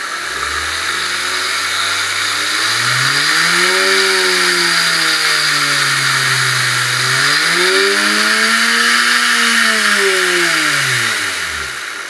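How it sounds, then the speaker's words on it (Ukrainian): A loud, close motor from an old vacuum cleaner, driving a homemade rotary drill, whines continuously, its pitch rising and falling in slow sweeps as the speed is adjusted up and down. "Ось така бурмашина для гаражу дуже гарна річ."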